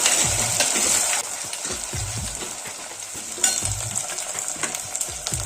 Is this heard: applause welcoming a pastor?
no